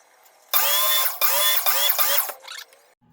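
A power saw makes a batch of cuts through small wood pieces for a custom silverware organizer: several loud, whining bursts follow one after another with brief dips between, then the saw winds down.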